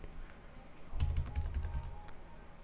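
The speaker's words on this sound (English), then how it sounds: "If you want to search for updates of the Snapcrop applications, then you need to type snap refresh." Quick burst of keystrokes on a computer keyboard as a short terminal command is entered, a close, soft flurry of taps lasting about a second in a quiet room.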